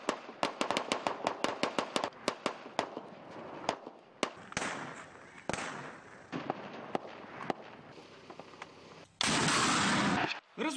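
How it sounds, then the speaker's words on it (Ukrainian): British NLAW anti-tank grenade launchers fire in a rapid string of sharp blasts and bangs, some near and loud, followed by a sustained roaring burst near the end. "Наші десантники мають використати британські гранатомети «Енлав»."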